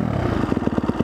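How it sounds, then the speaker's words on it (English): A 2015 Husqvarna FC250 dirt bike pulls hard in second gear, its engine note a close, loud, rapid pulsing throb that rises steadily without pause. "This bike is definitely fast."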